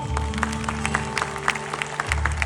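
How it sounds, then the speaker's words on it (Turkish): Audience applause for a volunteer named Fatih during a hotel magic show, a thin scattering of claps over a steady low hum, moderately close and fairly quiet. "Arkadaşlar alkış alalım."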